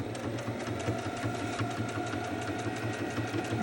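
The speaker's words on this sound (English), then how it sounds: "we're basically just going to top stitch along that edge" A sewing machine runs steadily at close range, its needle chattering evenly as it top stitches along the edge of a fabric face mask with a filter pocket.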